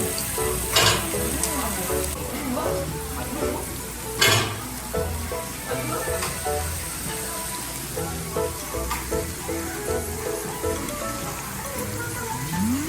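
Thin-sliced pork and beef sizzle and spit on a restaurant grill, a steady close frying crackle with occasional louder pops and a few utensil clinks.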